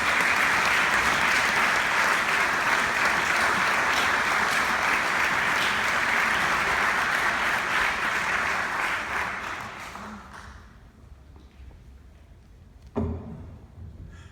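Sustained applause from an audience at an award ceremony honoring Lou Sirico, a full, dense clapping that holds steady for about ten seconds and then quickly fades out, followed by a single brief knock.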